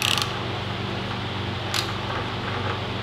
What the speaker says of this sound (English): turn the pinion by hand. It'll hit some resistance